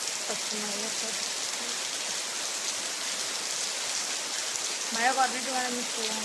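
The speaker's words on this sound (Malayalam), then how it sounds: "അപ്പം അതാ നേരത്തെക്കാളും മഴ, നല്ല പെരുമഴ എന്ന് പറഞ്ഞാൽ പെരുമഴ" Heavy rain pours down on a rainy day, a dense, loud, steady hiss of water that runs the whole time, with a voice talking briefly over it near the start and again toward the end.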